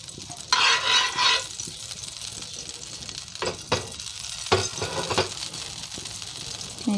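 Milk balls being fried in a spoonful of ghee while stirred in a pan: short bursts of scraping and sizzling come up close, with a low background hiss in between.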